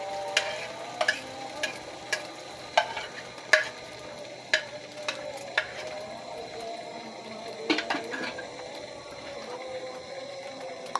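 An egg frying in a pan, a steady soft sizzle with a stream of sharp pops and crackles spread across it, close and moderately loud, without any talking.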